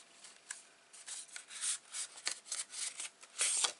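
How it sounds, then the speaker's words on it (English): Paper pages cut 8 by 5 inches are folded in half and burnished flat for an 8 x 10 mini album, giving a series of short, soft rubbing and scraping strokes at close range with no talking. "These are going to be just folded in half"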